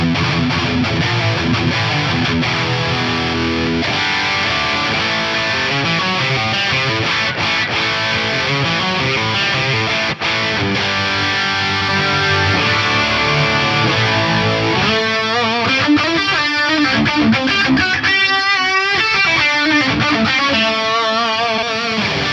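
Distorted electric guitar played through a Fractal AM4 modeler, switching between different amp models: sustained chords and riffs ring continuously and loudly, with the tone changing partway through as a new amp voicing takes over.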